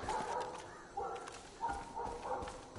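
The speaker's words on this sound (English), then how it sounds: "Dog!" A dog barks repeatedly in Far Cry 5, a series of moderately loud, spaced woofs over a continuous game soundscape.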